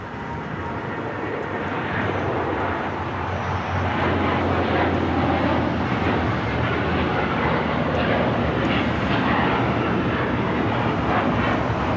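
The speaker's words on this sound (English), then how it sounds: "This is United Airlines 198 taking off to Shanghai on the 7879 Dreamliner." A United Airlines Boeing 787-9 Dreamliner takes off from LAX, its engines giving a loud, steady roar that swells slightly partway through and holds at full strength, heard alone with no talk.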